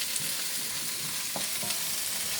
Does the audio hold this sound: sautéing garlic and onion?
yes